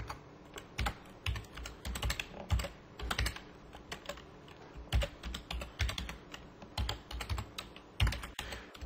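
Computer keyboard typing while naming a first NetBeans project in camel case, a steady run of close, crisp key clicks in irregular bursts with no talking.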